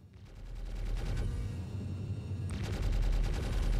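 Ship turret guns firing in the space game Star Citizen, aboard a Drake Corsair: a sustained rapid burst of loud, dense gunfire that keeps rolling for several seconds, swelling louder toward the end, with no talking.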